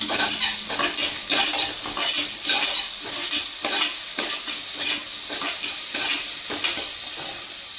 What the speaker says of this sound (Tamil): அடுத்து வாஷ் பண்ணி வச்சுருக்க கருவேப்பிலை போட்டுடலாம்